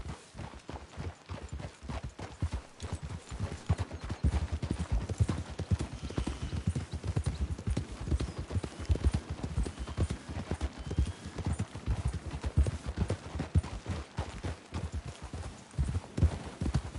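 Horse hooves clip-clopping on the ground in Red Dead Redemption 2, a steady close rhythmic series of hoofbeats running throughout, with a faint whinny and other game sounds underneath.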